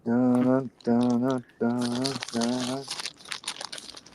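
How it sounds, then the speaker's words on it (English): A bag is crumpled during an online video chat, giving a crinkly, rustling noise that starts midway and carries on to the end. A drawn-out voice is heard at the start, overlapping the first crinkles. "you're crumpling a bag or something"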